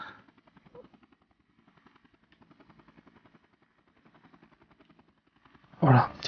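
A helicopter in the Vietnam-era game Air Conflicts: Vietnam, its rotor giving a faint, steady chopping pulse throughout, then a sudden loud blast near the end.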